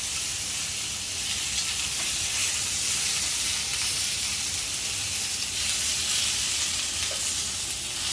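Tuna searing in a hot pan, Réunion-style, gives a steady, loud, bright sizzle that holds without pause throughout, close up and with no talk over it.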